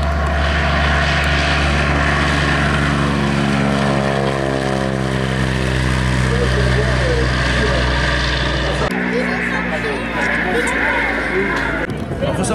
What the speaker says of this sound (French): Voilà, mesdames et messieurs, le Breguet 14.